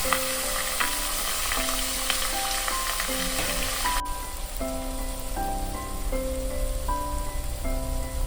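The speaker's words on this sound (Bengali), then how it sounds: "পেঁয়াজ এখানে হালকা হালকা ভাজা হয়ে যাওয়ার পর" Onions fry in a pan with a steady, close sizzle and crackle, soft stirring beneath, while light background music plays throughout.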